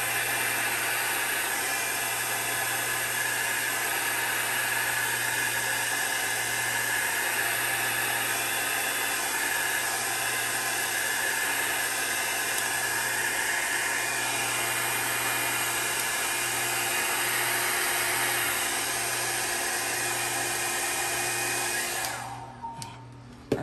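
A hair dryer drying alcohol ink artwork on synthetic paper blows steadily with a constant whooshing roar for a long stretch, then cuts off abruptly near the end.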